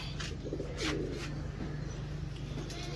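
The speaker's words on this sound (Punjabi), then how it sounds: "ਇਹ ਟੈਡੀ ਕਬੂਤਰ ਹੈ ਦੋਸਤੋ" A Teddy-breed pigeon coos in short, soft bursts close by over a steady low hum, with a few brighter chirps standing out near the start.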